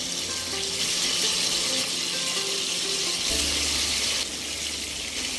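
Hilsa fish pieces sizzle in hot oil in a pan, a steady hiss of close frying that keeps going, with a slight shift partway through.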